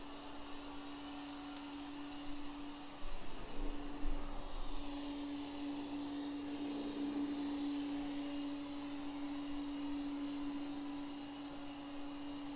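A Thamtu G11 robot vacuum cleaner cleaning carpet gives off a steady, soft motor hum with a constant tonal whine and brief brushing bumps, heard close and alone.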